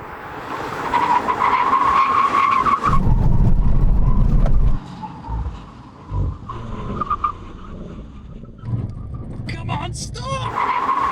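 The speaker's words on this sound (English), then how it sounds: "100 miles an hour, full emergency stop." An Audi RS5 and a BMW M3 make full emergency stops from 100 mph. Engine roar and tires scrubbing come loud at first, then a heavy rumble as they slow, followed by quieter moments and voices talking over the scene.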